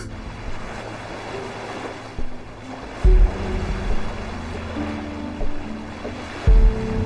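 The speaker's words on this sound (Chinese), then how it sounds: "一起在海边散步，看潮起潮落，听鸥鸣阵阵" Sea waves rolling onto the seashore, with a steady wash of surf and wind noise and heavier swells breaking every few seconds, no voices present.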